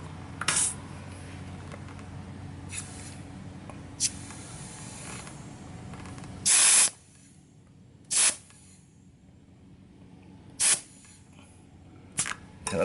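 An air filler hose tops up an XT250 motorcycle tire, giving short loud hissing bursts of air, one long and several brief spurts separated by quiet gaps as the chuck is pressed on.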